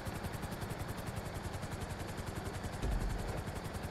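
Helicopter in the video game Grand Theft Auto, a steady rapid rotor chop with a droning engine, continuous and moderately quiet throughout.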